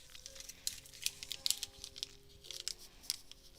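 Small beads and cone heads being rummaged through at a fly-tying bench, a quiet patter of light clicks and rattles scattered across the clip, close up and faint, with no talking.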